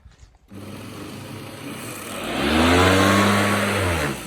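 The small electric motor of a hover lawn mower whirs to life and climbs in pitch, holding a loud, steady high whine that swells toward the end, close by.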